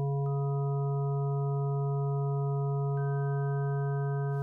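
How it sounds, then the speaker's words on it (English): Sine waves stacked on Yamaha DX7 digital oscillators: a pure steady tone chord, with one higher partial joining early and another entering about three seconds in, clean and sustained without any voices. "We can make this more precise with digital oscillators on the Yamaha DX7"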